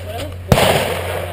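A Remington shotgun fires once at sporting clays outdoors, a single sharp, close blast with a brief ringing decay over a low steady hum.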